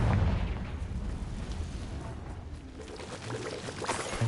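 A Confringo explosive spell cast in Hogwarts Legacy gives a dense, rumbling blast with a booming low-end burst at the start, followed by a sustained roar that fades slightly and swells again near the end.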